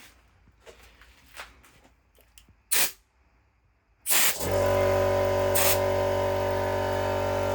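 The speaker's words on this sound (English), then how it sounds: "I'm gonna take it down to my garage and blow away all the dust." Compressed air blasting dust off an Amstrad CPC 664 home computer in a garage. A few footsteps and handling noises come first, then a short burst, then a loud, steady hiss that runs to the end.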